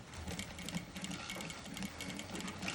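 A sewing machine stitches two pieces of a princess-line saree blouse together in a quick, even run of needle clatter, quiet and close, with no talk.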